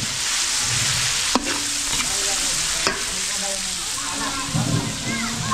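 Garlic and onion sizzle in hot oil for pork molo at a catering kitchen, a constant loud frying hiss broken by sharp clanks and scrapes of a stirring spatula, with a voice talking briefly over it.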